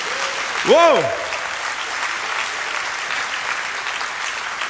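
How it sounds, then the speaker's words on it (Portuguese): A church congregation breaks into sustained, dense applause, loud and steady throughout, with a short exclaimed voice rising over the clapping near the start. "Dá uma salva de palmas aí."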